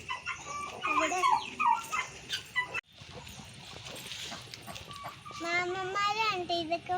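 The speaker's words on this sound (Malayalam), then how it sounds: "കോഴികളെയൊക്കെ." Chickens on a home farm cluck in short, irregular bursts at close range, mixed with other fowl calls and a voice talking over them, with a brief cut partway through.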